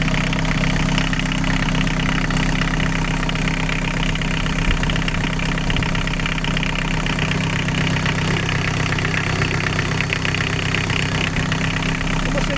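An Isuzu 1.7 diesel engine from an Opel Combo idles after a cold start in snowy weather, with a loud, steady, rough clatter that holds evenly throughout.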